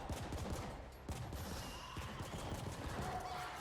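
Rapid automatic gunfire in The Ascent, a top-down sci-fi shooter: loud bursts of repeated shots rattling continuously with brief pauses, layered over game effects.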